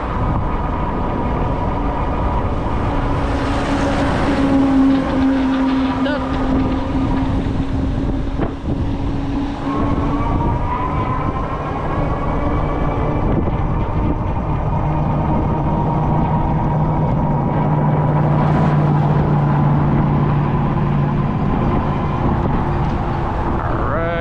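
A Romeo bike is ridden, its engine giving a steady, continuous drone while wind buffets the microphone throughout.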